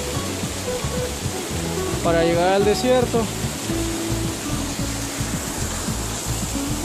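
Water rushing through a mountain canyon on the way up Picacho del Diablo, a steady broadband roar running throughout, with someone speaking briefly over it midway.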